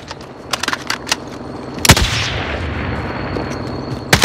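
AK rifle gunfire in the Warzone video game, with several sharp single shots and short bursts followed by one louder close blast, then a long decaying echo and a faint shot near the end.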